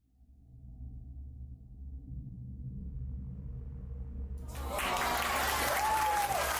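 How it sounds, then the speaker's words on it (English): Applause in a celebratory burst, starting faint under a low rumble and swelling loud and dense for the last couple of seconds after a PC game longplay is completed. "Thank you for the applause."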